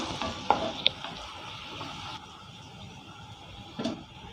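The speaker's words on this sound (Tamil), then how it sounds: "நம்ம வதக்கி எடுத்துக்கலாங்க நல்லா ஃப்ரை பண்ணி எடுத்துக்கிடுவோம்" Potatoes fry gently in an open pan, with soft sizzling and a few sharp scrapes and clicks of a spatula stirring them, quiet and close with no talking.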